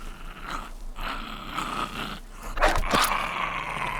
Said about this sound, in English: I want to kill this short-haired dog